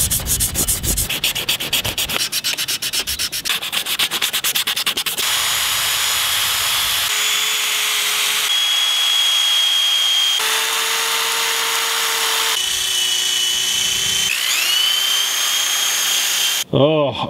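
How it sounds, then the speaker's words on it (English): Sandpaper rubs steadily against a damaged axe head, with the cutting edge taped during polishing, making a continuous close scraping hiss that shifts in pitch and speed between strokes, with a few brief pauses. "I put some tape on the edge here to keep me from cutting myself again while polishing this thing up."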